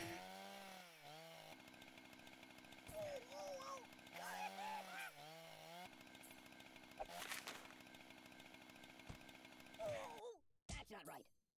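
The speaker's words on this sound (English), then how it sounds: "Do you like chainsaw?" Video game chainsaw effect from Kick the Buddy Forever: a buzzing, revving motor whine that stays loud and steady in repeated bursts, then cuts off abruptly near the end.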